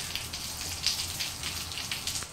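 Rain falling outdoors near a home garden, a soft steady patter and hiss with scattered drop ticks, faint and continuous with no voices.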